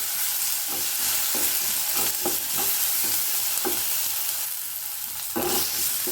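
Tomatoes with a little salt fry in a pan for a South Indian poha breakfast, a close, steady sizzle broken by repeated scraping stirs of a spoon against the pan.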